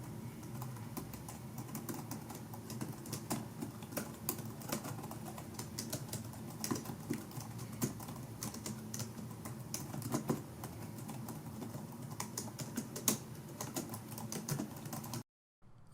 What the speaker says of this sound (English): Here's a little typing test so you can hear how loud this keyboard is.